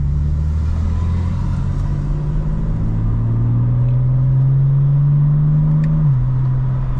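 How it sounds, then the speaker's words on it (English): A 2025 BMW M4 CS engine with active sound design off hums as a low, steady rumble from inside the cabin while driving, with a subdued pitch that slowly rises and then drops. "with active sound design off, you really don't hear the car much"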